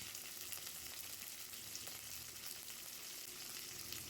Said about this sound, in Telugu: ఇప్పుడు అంతటిని ఒకసారి కలుపుకోవాలి.